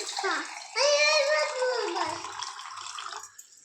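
Water splashing and sloshing close by indoors, with a voice chattering over it throughout.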